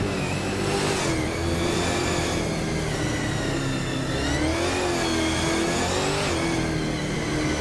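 Race car engine of a 2013 Holden Commodore VF in a racing video game, droning loud and steady with rising and falling revs as it holds position, alone with no talk.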